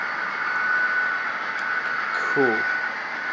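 An HO scale model train running on a modern layout with onboard sound, giving a steady mechanical hum and whine throughout, with a brief spoken word near the end.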